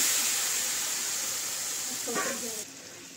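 Spices with Kashmiri chili powder sizzle in a frying pan after water is added, cooking shorshe ilish. A steady, faint hiss runs throughout, with a brief burst of spattering near the end.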